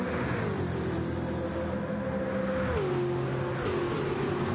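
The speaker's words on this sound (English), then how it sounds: "Deva popping out of Matty's slipstream and driving right by him" Racing cars in Gran Turismo 7 in a British GT series race, engines droning steadily with pitch shifting as cars close up and pass one another, loud and continuous with no voices.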